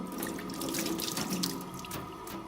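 Tap water runs steadily from a faucet into a sink, splashing as an oil paint brush is wetted under the stream, close and continuous for a couple of seconds.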